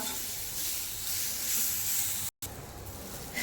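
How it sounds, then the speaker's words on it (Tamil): Beetroot sautéing in ghee for beetroot halwa gives a steady, bright sizzling hiss that cuts out for an instant, then resumes. "பீட்ரூட் நல்லா நெய்யிலேயே 5 நிமிஷம் நல்லா வறுத்தாச்சுங்க"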